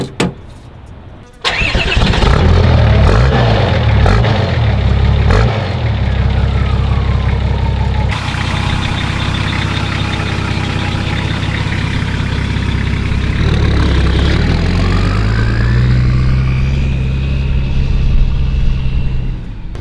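Old motorcycle engine starting: a brief crank, then it catches and settles into a loud, steady idle with a few revs rising and falling, close by.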